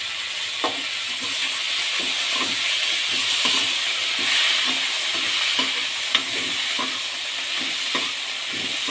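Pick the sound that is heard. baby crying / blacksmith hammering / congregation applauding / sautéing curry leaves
sautéing curry leaves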